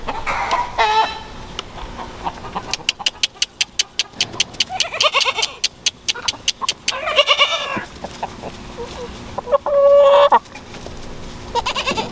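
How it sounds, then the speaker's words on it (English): Bantam chickens cluck and squawk as they are let out of their coop on a farm, loud bursts of calls near and busy, with goats bleating in the background and a voice briefly speaking. "Time to release the bantams."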